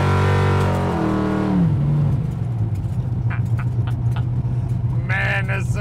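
A 1981 GMC pickup truck set up as a pro street truck revs its engine, a loud deep rising roar that drops and settles into a steady low rumble, with faint talk near the end.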